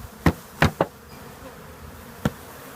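Honey bees hum faintly around a hive being set up, with several sharp knocks of hive parts being handled, close by and without speech.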